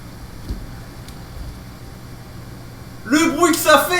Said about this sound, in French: Le bruit que ça fait. En tout cas, très beau le ventilateur.